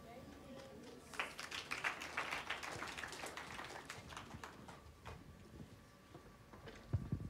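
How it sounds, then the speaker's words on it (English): Faint applause rises from a church audience, a scattered patter of claps that swells after the first second and thins toward the end, quiet and distant with voices mixed in. "A warm round of applause, ladies and gentlemen."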